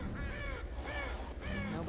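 Crows caw in a deserted area in Half-Life 2 Episode 2, a few harsh calls layered over a steady low ambient hum, with a person talking quietly alongside.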